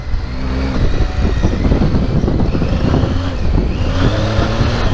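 A Yamaha Tenere 700 motorcycle with a chain-tension noise revs up at a gravel pit, its engine rising loud and close in a rough, wavering drone that swells and eases over several seconds, with wind buffeting in the background.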